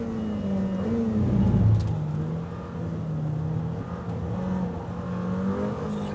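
A Lamborghini Temerario engine revving hard toward 10,000 rpm, a loud, sustained droning roar that rises and holds steady as the car accelerates, heard from inside without voices.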